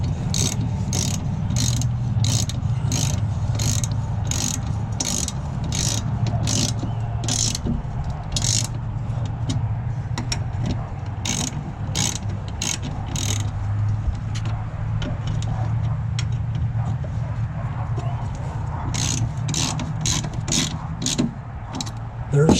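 A ratchet fitted with a 14 mm socket works bolts on a plastic Honda mower deck, its pawl clicking in rapid bursts of repeated strokes with pauses between, close and fairly loud over a low background hum.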